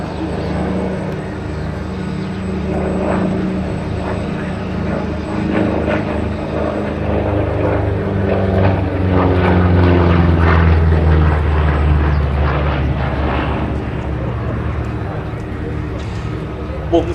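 A P-47D Thunderbolt fighter, 'Nellie B', roars through a flying display at Abingdon, its propeller engine a loud, sustained drone that swells and fades as it passes, with a speaking voice running over the noise throughout.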